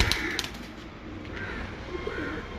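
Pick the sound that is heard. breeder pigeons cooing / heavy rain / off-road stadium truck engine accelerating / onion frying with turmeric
breeder pigeons cooing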